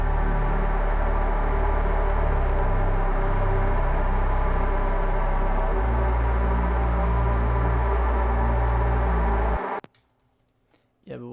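Synth pad holding a thick, sustained chord of layered tones for about nine seconds, with a shift partway through, then cutting off abruptly into near silence.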